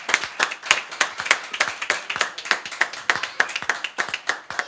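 A church congregation claps together to acclaim the Lord, brisk rhythmic handclaps repeating steadily at close range for several seconds, with no talk over them.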